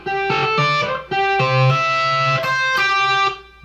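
Electric guitar playing a lead lick from a song's solo: a few loud, sustained bent and held notes with a distorted tone, played alone without talk.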